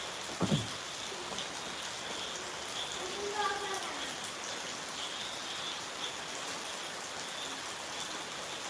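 Heavy morning rain pours steadily in a Malayalam-speaking home area, a continuous hiss of falling water with a brief knock near the start and faint voices in the background.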